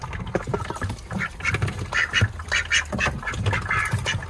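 Several ducks quack repeatedly in a busy, overlapping chorus, close by at a home with chickens, with no talking.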